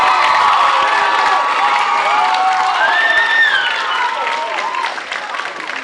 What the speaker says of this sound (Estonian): tehke aplaus